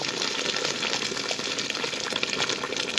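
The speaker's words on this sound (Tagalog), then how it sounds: "nilagyan na natin ng mainit na tubig" Hot water pours steadily into a pot of chicken being boiled for chicken majboz, a continuous close splashing and gushing with no talk.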